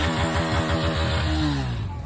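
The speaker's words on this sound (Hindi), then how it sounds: "ऑफ रोडिंग करते हुए गाइस 3 सुपर बाइक देख सकते हो आप लोग।" Several super bikes, including a Kawasaki 100 cc, rev while off-roading, their engines throbbing in a loud, choppy pulsing rhythm close by, with pitch climbing and then easing off near the end.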